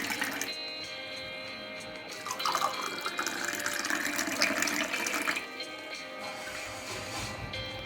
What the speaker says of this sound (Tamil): இப்போ கிளாஸில் ஷிஃப்ட் பண்ணிடுவோம்.